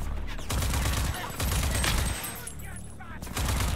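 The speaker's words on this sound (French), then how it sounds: "on me tire dessus au secours" Rapid automatic gunfire in the video game Rage 2 rattles in dense, loud bursts aimed at the player, with short pauses between volleys and a player's voice briefly heard over the shooting.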